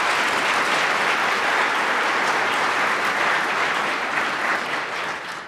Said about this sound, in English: Let's give another round of applause for that incredible performance.